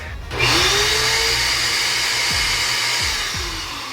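Suction pulling coolant out of a heater hose on a Toyota Land Cruiser 100 (LX470), a loud close steady whooshing roar like a vacuum that starts abruptly and holds, with a few faint gurgling slurps underneath.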